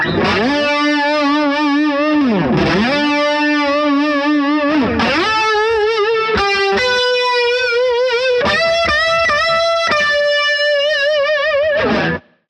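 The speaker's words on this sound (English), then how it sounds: "the trem bar can bring the pitch higher and lower than the 0 point" Distorted electric guitar notes swooping down and back up in pitch with the tremolo bar, repeated wavy dips, then a few held bent notes, loud and alone.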